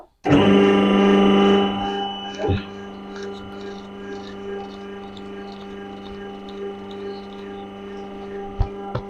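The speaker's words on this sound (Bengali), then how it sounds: "প্রথমে মেশিনটা স্টার্ট করব।" A paper plate making machine pressing banana-leaf design plates starts up with a loud mechanical onset, then settles into a steady humming drone with faint clanks, running continuously close by.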